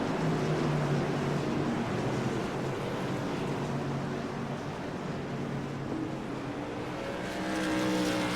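BS Tour modified race cars at Hickory roar around the track under a restart, a dense, continuous engine drone close by that swells slightly at the end as the pack passes.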